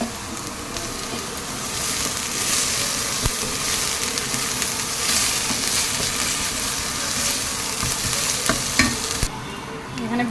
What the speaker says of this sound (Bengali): জিরে আর ধনে, এগুলো সব পেস্ট করে এটাকে একটু ভেজে নিয়ে